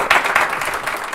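Applause from mourners at a funeral service for the singers, a steady wash of many hands clapping at close range with no voices, lasting only a moment.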